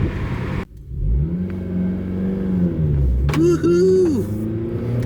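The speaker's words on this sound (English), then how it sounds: "We even kicked the VTEC in a little bit to make sure it was gonna work" A 2008 Honda Civic Si accelerates hard on a neighborhood drive, its engine note rising then falling through the revs with a brief swell near the top; a voice cheers over it and people talk around the engine.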